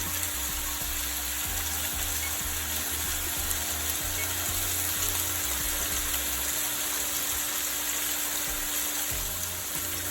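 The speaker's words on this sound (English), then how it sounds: "So I'm going to pan fry this for about 2 minutes on each side." A steak sizzles as it pan-fries in hot fat, a steady, dense crackle that runs loud and unbroken from start to finish, with a low hum underneath.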